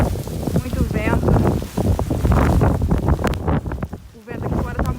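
Strong hurricane wind outdoors before the eye of the storm arrives, a loud continuous roar and buffeting against the microphone, with a person speaking over it.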